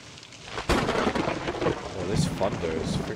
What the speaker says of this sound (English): Thunder is freaking loud.